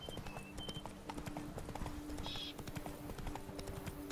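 A horse's hooves clip-clop steadily in The Witcher 3 video game, a continuous trotting beat over background game ambience, fairly faint and with no talk.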